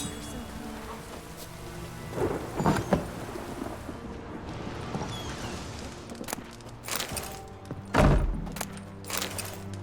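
Rain falls steadily in The Witcher 3 video game while deep thunder rumbles and cracks roll in, with several heavier bursts and a loud crash near the end.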